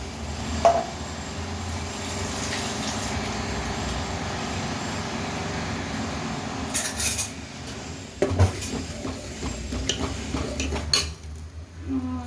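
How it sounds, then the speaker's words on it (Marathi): Onion, garlic and ginger paste sautéing in very hot oil on high heat, with a utensil repeatedly scraping and clinking against the pan in a steady, close rhythm, no talk. "हे छान असं परतून घ्यायचं आहे आपल्याला कांद्याची पेस्ट."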